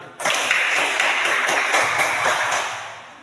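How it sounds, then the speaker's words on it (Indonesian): Classroom of students clapping hands together, a sudden burst of brisk, close applause that starts sharply and continues steadily for about three seconds. "Berikan tepuk tangan."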